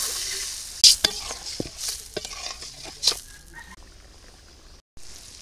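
Fish roe is stir-fried in a pan, moderate sizzling under intermittent scraping and stirring taps, close and fairly quiet.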